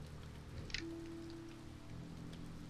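Steady, soft rain hisses continuously through a scene in the video game Finding Paradise, with a brief musical tone sounding over it.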